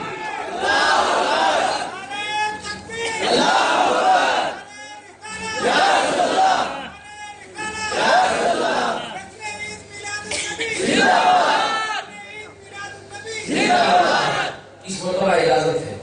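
A large crowd chants religious slogans in loud, rhythmic bursts of massed voices, each shout swelling and fading, with brief lulls between the waves of chanting.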